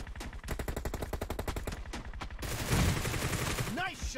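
Rapid gunfire crackles from an online shooter match on an Asian server, first a long run of evenly spaced shots and then a denser, louder burst. A voice briefly comes through over the firing.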